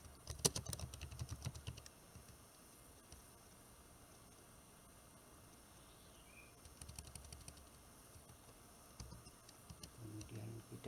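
Typing on a computer keyboard in Microsoft Word: faint, quick key clicks in short bursts at the start and again later, separated by quiet stretches.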